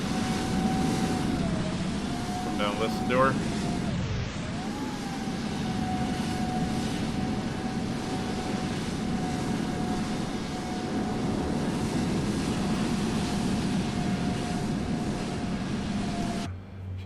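Engines 1 and 2 of a cargo aircraft spool up with a loud, steady broadband roar and a sustained whine, with a brief voice partway through.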